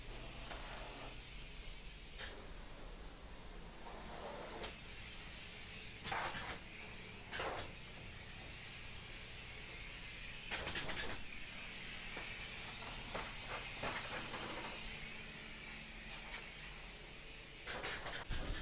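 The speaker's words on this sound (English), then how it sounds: "So it's just like the foam you get in a can, you spray it in, and it expands" Spray foam insulation being sprayed inside a house under construction, a soft steady hiss running throughout, broken by brief louder bursts and knocks from the work.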